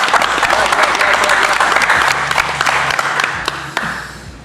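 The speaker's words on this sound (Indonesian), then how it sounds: "Ayo tepuk tangan lagi," A studio audience claps and applauds loudly and steadily for several seconds, the burst fading slightly toward the end.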